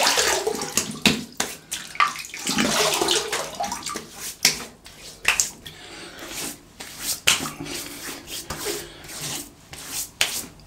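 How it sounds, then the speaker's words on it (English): Water splashing and rubbing as a face is wetted by hand before shaving, irregular close splashes and drips with no talk. "let's wet the face and we'll get lathered up"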